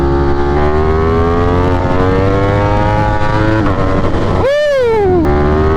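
Motorcycle with wheelie control switched off, accelerating hard in third gear: a loud, steady engine roar rising in pitch, with a sharp upward rev sweep near the end, close and alone.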